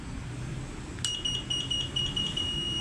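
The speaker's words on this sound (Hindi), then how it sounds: "ये लंबी बजर आई है, छोड़ देना आप इसको।" A solar inverter gives a long, steady electronic buzzer beep during setup, starting after a second of quiet hum and holding as a continuous high tone to the end.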